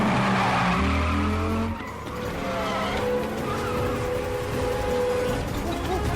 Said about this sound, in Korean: 폭스 또한 평범하지 않은 운전 실력을 보여주며 웨슬리를 남자에게서 구해내게 됩니다